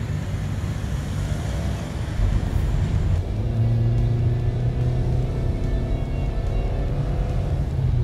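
A 2019 Toyota RAV4 heard from inside while driving, a steady low road and engine rumble with a brief rise as it accelerates, no talk.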